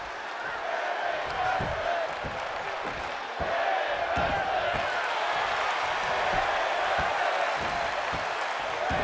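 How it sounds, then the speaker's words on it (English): A crowd cheers and applauds at a wrestling show, a continuous dense roar with scattered thumps from the ring, steady and moderately loud, and a commentator talks over it. "And the crowd going crazy."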